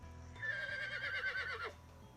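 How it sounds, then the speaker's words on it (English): Horse neighing in the visual novel Code Realize, a single clear whinny with a shaky, wavering pitch lasting over a second, alone with no talk. "I hear a hoarse neigh."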